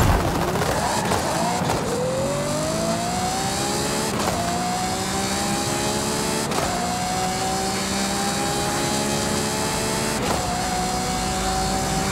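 A 2010 Ferrari 599 GTO V12 in Forza Horizon 5 drones loudly and steadily, its pitch climbing through upshifts with brief breaks at each gear change, alone without talk.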